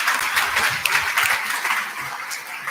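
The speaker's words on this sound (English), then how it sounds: "Please join me in welcoming your ma'am with a big round of applause." An audience at a lecture event applauds as a guest is welcomed: a dense, steady wash of many hands clapping, moderately loud, with no voices.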